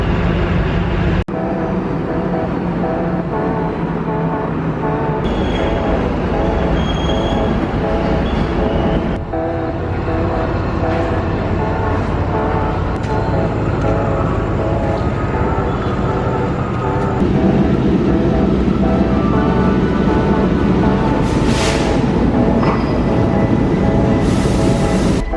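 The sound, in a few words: train at Fort Station, Colombo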